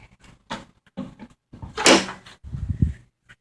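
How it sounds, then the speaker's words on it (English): The hood of an older car, over twenty-five years old, is released and lifted: a few separate metallic clunks and thuds, a sharp latch pop in the middle, then rattling handling noises, close and fairly quiet. "Pop the engine open here."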